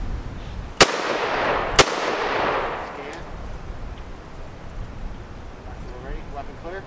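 Two sharp, loud rifle shots in 7.62x39, about a second apart, fired at close range in a training drill. Each crack rings out into a long echo that fades slowly.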